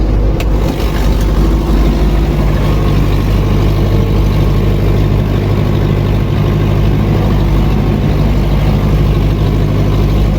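An MTZ 82.1 tractor pulls a Bomet plough through heavy, weedy soil. The diesel engine drones loud and close without a break, its steady low rumble filling the whole stretch. No voices.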